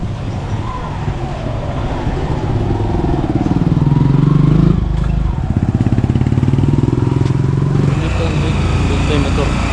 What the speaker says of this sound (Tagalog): Dito yung motor.